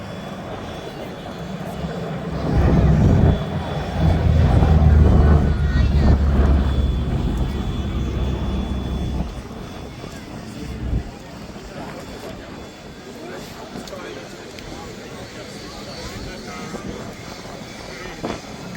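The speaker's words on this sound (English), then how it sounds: "here it comes, in from the right with its escort fighter, the Republic P-47D Thunderbolt" A B-17G Flying Fortress bomber and its P-47D Thunderbolt escort fighter fly past at the Duxford summer air display, a loud piston-engine roar that builds and then fades over several seconds, with a voice talking over it.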